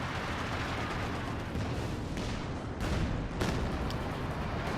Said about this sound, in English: 23mm cannons. Doesn't sound like much